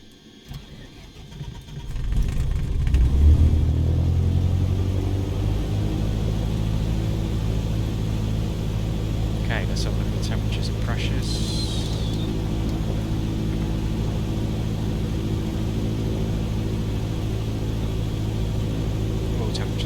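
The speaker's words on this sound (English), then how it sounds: "Propeller check, ignition switch to start." A propeller aircraft engine in Microsoft Flight Simulator 2020 cranks and catches after a quiet start, then settles into a steady loud rumbling idle, with a few brief clicks along the way.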